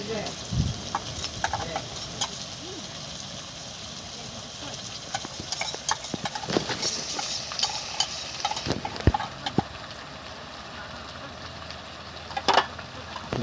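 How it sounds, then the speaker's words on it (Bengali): Ginger garlic paste frying in a pan for a chicken dish, with a steady soft sizzle under repeated scraping stirs and clinks of a utensil against the pan, close by, with scattered louder knocks. "সবটা দিয়ে লাইতাম আদা রসুন বাটা এখানে দিয়া দিতেছি।"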